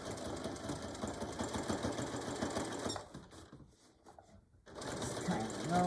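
A sewing machine stitches a beach or diaper bag, its rapid mechanical whir running steadily for about three seconds, then stopping into near silence before resuming briefly at the end.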